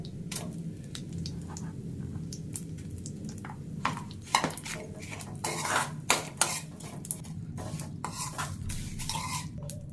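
A metal spoon stirs a jaggery mixture in a cooking pot on a gas stove, with repeated close scraping and clinking against the pot in an irregular rhythm, no talk over it.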